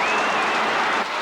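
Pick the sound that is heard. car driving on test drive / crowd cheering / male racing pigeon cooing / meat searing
crowd cheering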